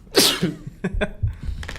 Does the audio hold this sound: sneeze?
yes